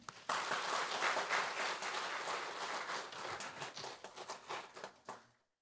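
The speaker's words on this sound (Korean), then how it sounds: "우리 나오실 때 박수 한번 부탁드리겠습니다." A church congregation applauds a visiting pastor at a teachers' dedication service, a full, even round of clapping that swells and then fades out near the end.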